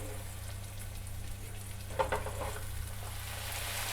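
Peanut curry with tomato puree frying in a pan over a high gas flame, a soft continuous sizzle with a low steady hum beneath and a brief stir-like bump midway.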